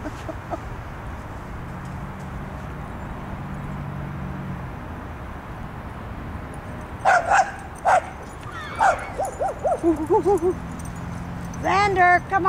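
Dogs yip and whimper in short, high bursts over steady background noise and a low hum, with a few sharper barks near the end.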